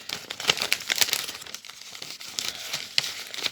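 Paper crinkling and rustling up close as 5 euro banknotes are slipped into a paper envelope, a busy run of crisp crackles that fills the whole stretch.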